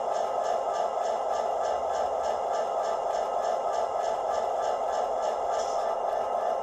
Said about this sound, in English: F20 is an air compressor, which you can hear it right now